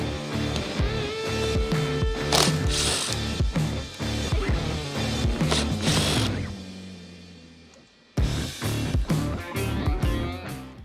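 A ratchet works 12mm bolts out of a Lexus 570 bumper, clicking in quick, close, loud runs, then pausing briefly before another rapid series of clicks.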